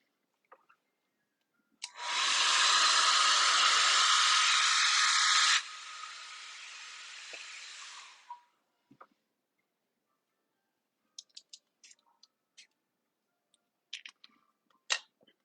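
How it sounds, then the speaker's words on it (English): Fine spray mister misting isopropyl alcohol over alcohol ink artwork: a continuous loud hiss of about six seconds that drops slightly in level before stopping, followed by faint scattered ticks and handling clicks. "I'm just going to hold it up a little bit, move those out of the way. And just get a really fine little mist."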